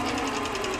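Domestic sewing machine running slowly and steadily, stitching a crosshatch line down the edge of an appliqué on a quilt, with an even rapid needle chatter and mechanical whir up close.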